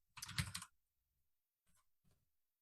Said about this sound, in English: I'm typing it up now